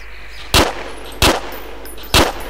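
Three single gunshots ring out at regular intervals in the Project Reality combat game, each a sharp loud crack over a constant low background hum.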